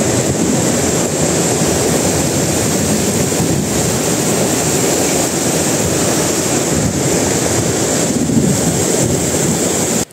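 A river at the Lubuk Mata Kucing tourist site, swollen after a flash flood, rushes in a loud, steady, broadband roar with no pauses, like heavy surf.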